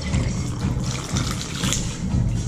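Liquid poured by a bartender practising a pour cut, a steady close splashing trickle running without a break for a couple of seconds, with no talk over it.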